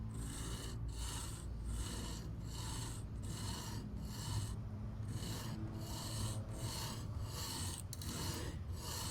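A knife blade is drawn lightly and slowly across the abrasive stone of a Work Sharp Precision Adjust sharpener, making a steady rasping scrape that repeats in even strokes about twice a second, close and quiet, with no talking.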